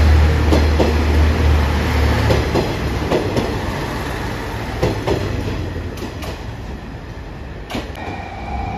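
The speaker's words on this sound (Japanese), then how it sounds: "徳島駅22時2分発特急渦潮32号アンパンマンカー高松行き。" JR Shikoku's Anpanman-car limited express Uzushio 32 runs at Tokushima Station, bound for Takamatsu, with a loud, close, steady rumble and repeated rhythmic wheel clacks, and no voices.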